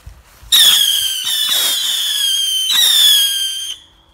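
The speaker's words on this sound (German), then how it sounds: "So, jetzt ein Baby-Rocket." A small firework rocket fired on New Year's Eve launches with a soft pop, then gives a loud, piercing whistle that rises and wavers for about three seconds before cutting off abruptly.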